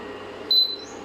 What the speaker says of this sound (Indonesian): Ini muncul EO dan ada suaranya, suara alarmnya bahwasanya tidak ada panci terdeteksi.